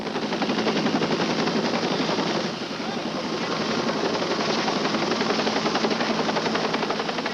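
Loud, continuous rotor chop from a Life Flight air ambulance helicopter, a fast rhythmic thudding that dips briefly midway, then carries on steadily nearby.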